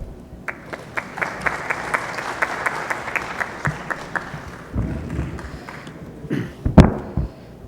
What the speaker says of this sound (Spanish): Les pido lo recibamos con un fuerte aplauso.